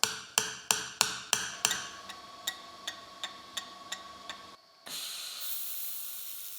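Hammer blows on a metal computer arm mount piece, a run of six sharp, ringing strikes followed by several softer, evenly spaced taps, then a steady hiss.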